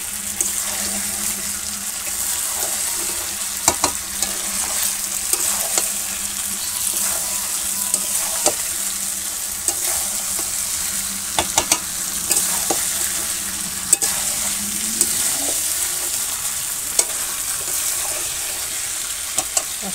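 Chicken and potatoes sizzle steadily in a pan over a coal fire in a village kitchen on a rainy day, with broadband frying hiss, scattered stirring clicks, and water being poured in near the end.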